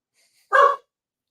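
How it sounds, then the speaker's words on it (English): A single sharp bark from a pet dog indoors, short and fairly loud, standing alone against near silence. "What are you barking at?"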